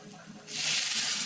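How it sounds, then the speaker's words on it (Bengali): Water poured into a hot pan of stir-fried beans, capsicum and shredded cabbage for Veg Manchow soup sets off a sudden loud hissing rush that continues steadily after a quieter moment. "এবার হয়ে গেছে, জল দিয়ে দিলাম।"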